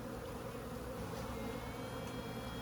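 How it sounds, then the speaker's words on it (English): A steady, dense buzzing hum of many bees in a hive fills the clip, with a faint higher piping tone of a queen bee rising briefly through the drone. "that is the sound of a queen."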